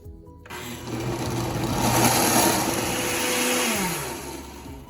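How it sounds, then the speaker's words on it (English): A blender whirs up to a loud, steady grinding roar, blending a Thai eggplant sauce to a fine paste, holds for several seconds, then winds down; no talking. "close the cover, and blend it to a nice fine paste"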